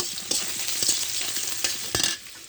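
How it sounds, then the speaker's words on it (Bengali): Sliced onions fry in a pan of leftover fish oil, a steady close sizzle broken by several sharp scrapes and clacks as they are stirred. "পেঁয়াজ ভাজা হয়ে গেছে"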